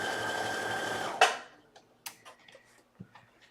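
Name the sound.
sewing machine sewing a placket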